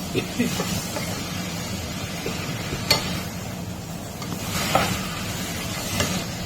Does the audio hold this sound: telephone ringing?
no